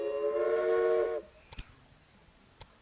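A steam train whistle blows in the railroad management game Railway Empire, one loud sustained tone of about a second that cuts off sharply, followed by a few faint clicks and taps.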